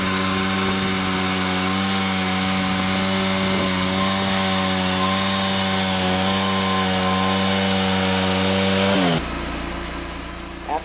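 An LT40 sawmill band blade cuts 12-foot 8x8 logs into 4x4s, a loud steady whine with a droning engine under it that runs without a break. The cut ends abruptly near the close, leaving a lower idle hum.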